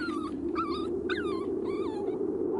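Sled dogs and puppies on a polar expedition give a series of high, wavering whines and yelps in short bursts over a steady low hum.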